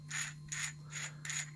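A steel Pittsburgh Pro ratcheting tap wrench is unscrewed, giving four evenly spaced metallic ratchet clicks close up over a steady low hum, with no talking.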